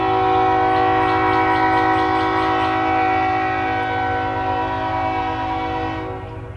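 A train passes near a track in the Springfield, Missouri area, sounding a long, loud, sustained horn over the heavy rumble of railcars, the horn holding steady before easing slightly toward the end.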